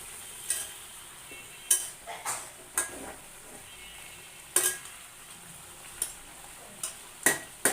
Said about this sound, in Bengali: মাঝে মধ্যে ঢাকনা তুলে এভাবে নেড়ে চেড়ে দিব।